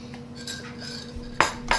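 Plates and cutlery clink lightly in a kitchen sink just after washing up. A few soft scattered touches lead to two sharper, louder clatters near the end, with a faint steady hum underneath.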